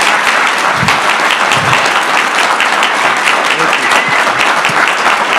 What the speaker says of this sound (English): the governor deserves a round of applause for doing 3 of these events